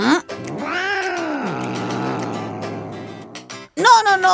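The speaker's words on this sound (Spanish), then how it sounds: "¡Miau!" A cartoon cat gives a long, drawn-out wailing meow, its pitch bending up and down for several seconds, loud and close, followed by a short burst of voice.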